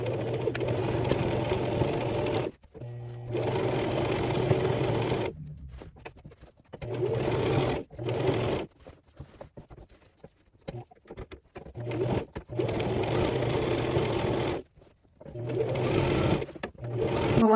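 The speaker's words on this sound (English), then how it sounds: "Now I've got my skirt pinned to the top, and I'm going to sew it." Sewing machine stitching a pinned skirt onto an ottoman slipcover top, loud close mechanical whirring in several runs separated by pauses, with faint handling noise between them.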